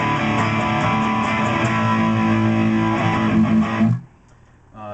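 A distorted electric guitar plays a song's chorus as a steady, loud strummed chord progression with no other instruments, then cuts off abruptly near the end.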